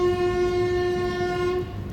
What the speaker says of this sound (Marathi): काय मस्त जबरदस्त हॉकिंग सोबत निफाड रेल्वे स्टेशनवरून आपली तपोवन एक्सप्रेस निघालेली आहे